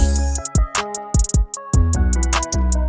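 A punchy hyperpop electronic drum pattern with deep booming 808 bass hits and bright, sizzling open hi-hats opening up between them, steady and loud with no voices.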